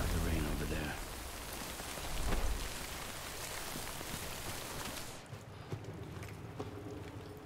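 Steady rain falling across the landscape in the video game Death Stranding, a dense continuous patter that cuts out abruptly near the end, leaving a quieter low rumble with a few scattered drops.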